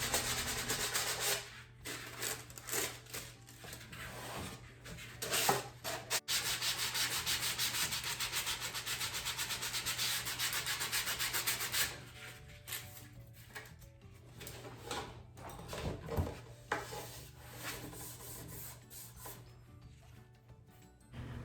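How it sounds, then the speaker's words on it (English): Repeated scratchy rubbing of sandpaper against the edge of tissue paper, in short bursts and longer strokes, close up with brief pauses between passes. "use your sanding paper to brush off and create that natural tear right at the edge"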